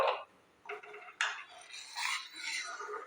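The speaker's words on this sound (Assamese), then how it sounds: "এইদৰে মই লাৰি থাকিম।" Spoon stirring badam milkshake mixture with cardamom powder, giving close scraping and clinking against the vessel in uneven bursts, with no voices.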